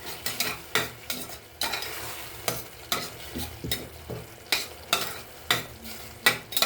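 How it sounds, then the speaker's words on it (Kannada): Tomato and masala frying in a pan for vegetable biryani, with repeated rhythmic stirring scrapes over a steady sizzle, close and fairly loud, no talking. "ಫ್ರೈ ಆಗ್ತಾ ಇದೆ ಟೊಮೆಟೊ ಕೂಡ"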